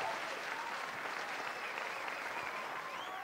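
Steady, dense applause from a large audience at an Ethiopian awards ceremony, a continuous wash of many hands clapping at even loudness throughout with no pauses.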